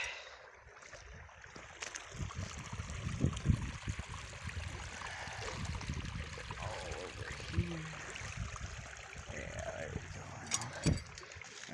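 Stream water trickles and gurgles through a break in a beaver dam, a soft continuous flow heard close with scattered splashes and handling noises, and a voice briefly speaking.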